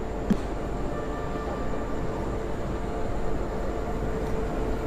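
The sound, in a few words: Himgiri Express train arriving at Saharanpur Junction station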